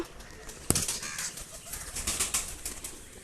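Madras pigeons kept at home coo softly within a busy, hissy background, with a sharp flutter or clap of wings near the start.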